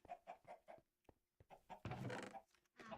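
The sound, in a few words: chickens clucking in a video game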